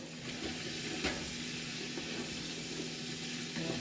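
Food sizzling steadily in a hot pan while being stirred, a close continuous hiss with faint scrapes and a low hum underneath.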